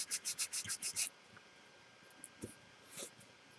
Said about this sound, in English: Just want to run your sanding stick across this and get it all flattened out